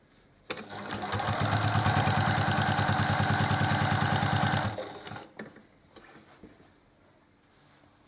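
A sewing machine stitches quilt rows together, running loud and close in one steady, even burst of about four seconds before stopping, followed by quiet handling sounds.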